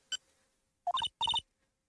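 Phone dialing tones from the Phoenix Wright video game: a lone beep, then two quick bursts of rapid keypad tones, crisp and fairly quiet against silence.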